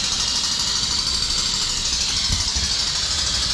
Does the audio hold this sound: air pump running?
yes